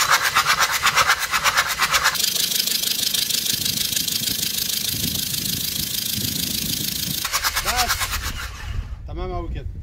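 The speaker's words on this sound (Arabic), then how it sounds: "وبعد ما تخلص هتشغل المحرك علشان تطلع اي بواقي لسه موجودة داخل الغرف" A diesel truck engine runs after a carbon-cleaning treatment of the piston chambers, giving a loud, close, steadily pulsing mechanical drone whose tone shifts partway through, with rising whining pitch sweeps near the end.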